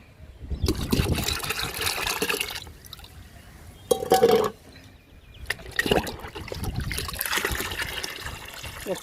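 Liquid fertilizer trickles and pours into water in a few uneven bursts, close by, with a brief louder splash in the middle.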